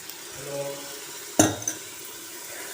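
A spoon stirs coriander, mint and thick curd in a cooking pot for a country-chicken biryani, with a few soft scrapes and clinks, then a sharper metal knock and a brief rattle, otherwise fairly quiet.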